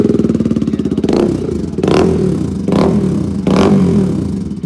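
A Bajaj Pulsar RS 200 motorcycle fitted with an Austin Racing full-system exhaust, revved four times in loud, close bursts of deep, bassy roar over a rapid, throbbing idle.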